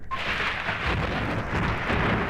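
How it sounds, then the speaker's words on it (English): Thunder sound effect in a 1958 song, a loud, sustained rumble with a rain-like hiss that fills the whole moment, heard without voices. "Bum, bum, bum, and the sound of thunder."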